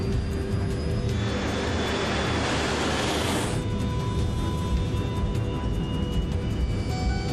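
Jet airliner of Comair flight 5191 on its takeoff roll, a loud, constant engine roar with a rushing surge in the middle, heard close and without voices.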